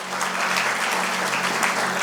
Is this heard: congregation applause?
yes